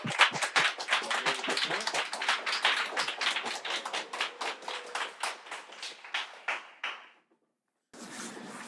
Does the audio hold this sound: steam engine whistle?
no